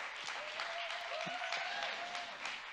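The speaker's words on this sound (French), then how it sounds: "On peut les applaudir" An audience applauds steadily at an evening event on media, youth and climate after a team of young people finishes five-minute pitches, the clapping dense and sustained with a faint whistle-like tone drifting through it.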